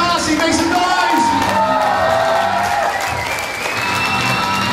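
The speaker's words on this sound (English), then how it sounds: "Give it up for Darcy, make some noise" A crowd at a hypnotist stage show bursts into loud, sustained applause mixed with cheers, whoops and shouting, filling the whole stretch without a break.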